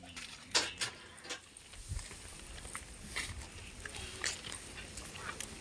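A dog moves and snuffles nearby in a village, with a few short sharp yelps or whimpers and light pattering steps over a quiet outdoor background.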